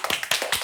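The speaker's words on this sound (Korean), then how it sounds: "박수로 환영해 주시기 바랍니다." At a church education department prayer meeting, a brief burst of clapping from a small group welcomes guest ministers, a few quick, close hand claps.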